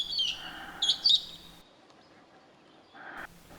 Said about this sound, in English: a group of yellow-fronted parrots came into some pencil cedars very close to my tent